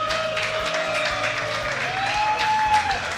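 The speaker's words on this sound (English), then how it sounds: "make some applause for Showtime!" A crowd at a StarCraft esports event in Germany applauds and cheers steadily for a player, a dense wash of clapping with a faint tone running underneath.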